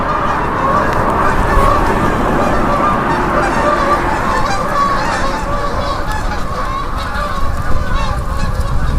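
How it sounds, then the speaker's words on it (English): A flock of geese honking continuously overhead, loud and overlapping calls filling the whole stretch with steady low rumble beneath. "a flock of geese flying overhead"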